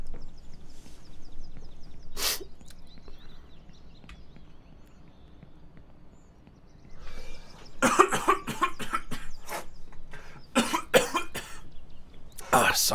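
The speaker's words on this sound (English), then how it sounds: "I know you guys don't want to listen to me coughing and sniffling and stuff" Several short coughs break out close by, clustered in quick bursts after a quiet stretch with faint background noise.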